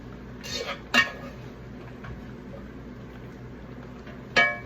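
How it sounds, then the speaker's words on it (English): Lamb fried rice is being mixed in a pan, with a few sharp metal utensil clinks and scrapes against the cookware over a low steady kitchen hum, close and intermittent. "Now we want to blend it, mix it together."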